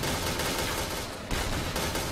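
Dense, continuous bursts of rapid gunfire from the video game Point Blank, in a tournament match, fill the whole stretch, loud and broadband, with a brief dip near the middle.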